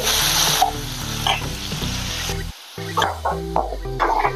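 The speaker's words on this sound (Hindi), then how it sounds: "अभी इसको कलर आने तक तलना है, बड़े गैस के ऊपर ही तलना है। ऐसे पलटाते जाइए चम्मच से और तलिए।" Potatoes fry hard over a high gas flame in a dhaba-style aloo do pyaza, a loud continuous sizzle broken by a brief pause and the scrape of a spoon turning them.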